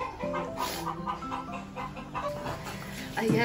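Farmyard chickens cluck repeatedly in short, uneven bursts close by, with busy household background noise around them.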